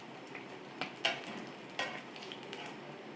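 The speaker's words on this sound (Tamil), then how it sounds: "ஆலு கோஃப்தா உருண்டைகளை நம்ம ஒன்றுனா நம்ம இந்த எண்ணெயில் போட்டு பொரிச்சு எடுத்துக்கலாம்." Aloo kofta potato balls deep-frying in hot oil give a steady, dense sizzle, broken now and then by brief scrapes and stirs from a utensil in the pan.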